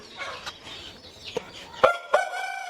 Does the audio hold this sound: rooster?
yes